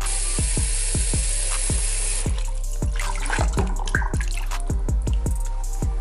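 Lukewarm water runs steadily from a tap into a sink basin, a continuous rushing wash with rhythmic low thumps and clinks throughout, close and fairly loud with no talking.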